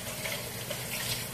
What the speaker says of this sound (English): So I'm gonna add some more water